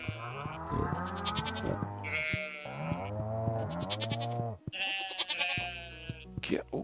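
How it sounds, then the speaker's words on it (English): Sheep in the farming video game Stardew Valley bleat repeatedly in loud, close, wavering cries that come in several bursts, with a brief pause partway through. "Get over here, sheep."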